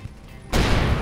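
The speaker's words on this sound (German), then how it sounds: "Bäm, explodiert." A spaceship explodes in the space game Avorion: after half a second of quiet, a loud, broad blast hits suddenly and roars on steadily to the end.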